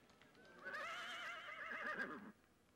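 A horse gives one long, loud whinny lasting nearly two seconds, for a bucking bronco ridden by a cowboy at a rodeo grandstand, with faint hoofbeats around it.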